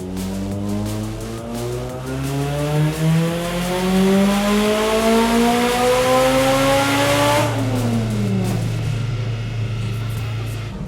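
Nissan S13 240SX engine on a dyno running E40 ethanol fuel, revving in one long pull with pitch climbing steadily before dropping back to idle; loud, close and continuous, with no talk.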